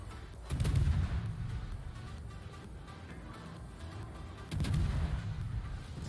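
Naval gunfire from a USN Atlanta light cruiser in World of Warships, two heavy booming salvos about four seconds apart, each with a deep rumbling low-end tail over steady background ambience.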